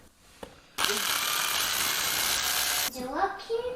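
After a faint tap, a power drill pre-drilling holes for coat hooks in wood roars loud and steady for about two seconds, then stops as voices talk close by.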